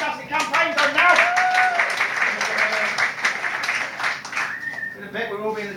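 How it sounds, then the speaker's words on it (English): A comedy-club audience claps enthusiastically at a stand-up show, dense close applause over several seconds with a voice talking over it toward the end. "So obviously a big round of applause for that."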